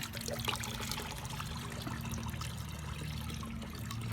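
Water trickles and dribbles steadily from a koi pond filter sponge being wrung out, with faint splashes, a low continuous liquid sound close by, no voices.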